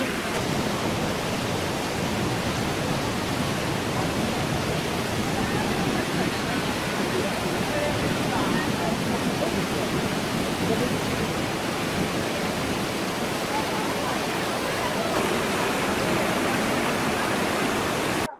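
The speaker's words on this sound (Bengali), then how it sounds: "ওয়াটারফলসের জল পাথরের উপর দিয়ে বয়ে যাচ্ছে" A mountain waterfall pours over rocks along the Silk Route near Sillery Gaon, a loud, dense, unbroken rushing roar that fills the whole stretch close by.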